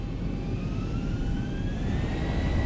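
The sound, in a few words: Zibo 737-800 jet engines spooling up for takeoff, X-Plane 11 video game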